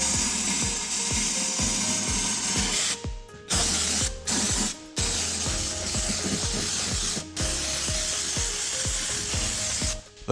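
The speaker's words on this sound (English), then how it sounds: "now I'll just put the regular gun tip on and start spraying." An air-powered oil sprayer gun applying undercoating oil beneath a vehicle, a loud continuous hiss of spray broken by brief stops and punctuated by rapid ratcheting, clicking mechanical noises close by.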